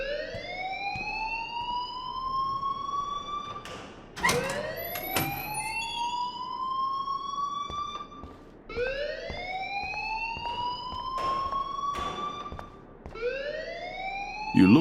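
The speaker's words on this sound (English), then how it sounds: "please turn off that alarm since that's your job" Repeating electronic alarm from the video game Life is Strange, a rising wail that sweeps upward and holds in three long cycles, loud and steady with brief clicks between sweeps and no talking.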